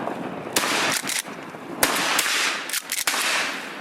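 Shotgun blasts from a duck hunt in the rain, several loud close shots in quick, uneven succession over steady rain noise.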